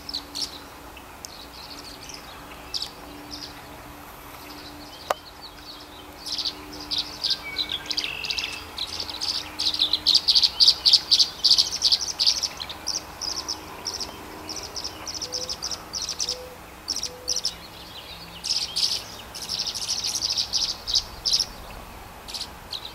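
Tree swallows chirp in spring, with many quick, high twittering calls coming in bursts and clusters over a quiet outdoor background, moderately distant and growing busier midway before easing off.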